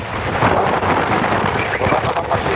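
Strong wind blasts straight into the microphone near a rock formation, producing a loud, continuous rumbling buffet with surging gusts and no pauses.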